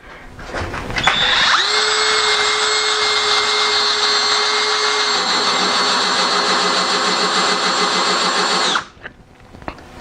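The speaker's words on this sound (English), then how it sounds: "I'm gonna try to drill with it." A Bauer 20 volt hammer drill whines steadily at high pitch and sounds broken, running in one long sustained burst of about seven seconds that shifts to a rougher, lower pulsing halfway through before stopping, close and loud with no talking.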